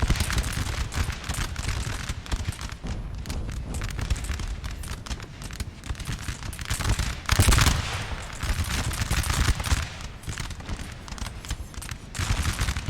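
Massed musket volleys and cannon fire rattle on without pause in a Napoleonic battle in Napoleon Total War, a dense, loud, continuous crackle of gunfire with heavier booms mixed in.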